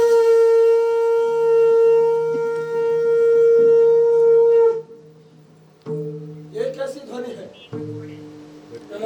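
A conch shell blown on stage during a one-act play set at a battlefield, giving a loud sustained horn-like tone for several seconds, then broken, rising blasts after a pause.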